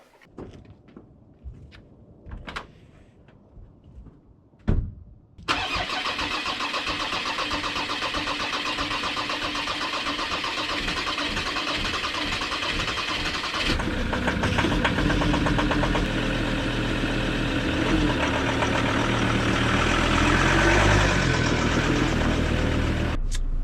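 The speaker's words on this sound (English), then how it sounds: "hence why the car was struggling so much to get started" A car engine cranks and struggles to start in icy cold at -3 degrees in the Pentlands, then catches and runs at a loud, steady idle that grows rougher and heavier partway through, with no voices.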